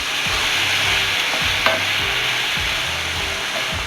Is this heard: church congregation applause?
no